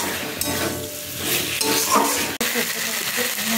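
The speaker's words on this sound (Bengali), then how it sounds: "দিয়ে দুটোকেই ভালো করে এবার কষিয়ে নেব।" Boiled potatoes and pointed gourd are stir-fried in a pan, a close, loud sizzle with busy stirring scrapes and one sharp utensil knock.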